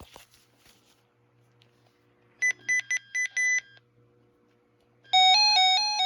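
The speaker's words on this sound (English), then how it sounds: "the first feature of this radio is the button beeps and the siren test" A RadioShack 12-259 radio gives four short electronic button beeps, then after a pause a loud warbling siren test tone begins and keeps sounding.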